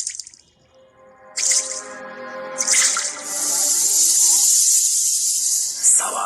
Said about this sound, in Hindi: सिंक से गंदे काले बदबूदार खून की बूंदे टपकने की आवाज